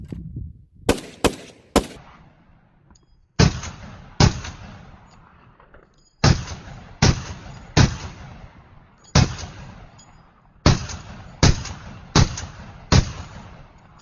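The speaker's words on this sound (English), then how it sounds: "30 rounds with an FAL 30 round mag" An FN FAL rifle fed from a 30-round metric magazine, firing loud, sharp outdoor shots with echoing tails, first a quick burst of three and then spaced singles and short strings, with no talking.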